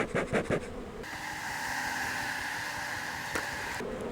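A grumpy honeybee hive in spring buzzes steadily and close during an inspection, a dense continuous drone with a few sharper bursts near the start.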